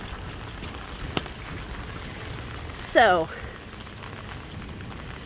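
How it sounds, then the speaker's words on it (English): Steady rain patters over the whole clip, with a soft thump early on and a brief voice and whistle-like sound partway through. "it is indeed actively raining"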